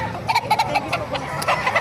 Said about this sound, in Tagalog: Maraming manok kayo dito sa Bukawi.